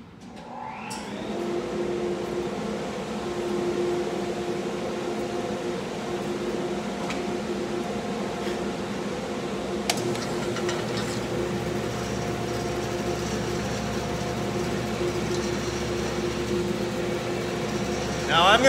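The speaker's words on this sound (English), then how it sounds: "I'm gonna turn on the vacuum, I'm gonna open the gate for this tool, and I'm gonna go ahead and cut the end off of this giant chunk of wood" Shop vacuum running with a steady whine while a band saw cuts slowly through a giant chunk of wood, the motor hum and cutting noise continuing evenly up close with no talking.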